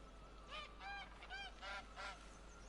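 Goose honking in the video game The Witcher 3, set in Toussaint: a steady series of about five nasal honks at regular intervals, moderately close over a low background hum.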